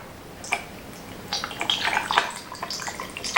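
Liquid pours into a cup while making patriotic layered punch, with a series of close splashing and trickling bursts that build toward the end.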